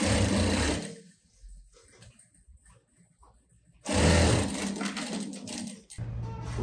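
A sewing machine stitches a trouser pocket in two loud, close bursts of rapid whirring, separated by a quieter pause with only faint handling noise.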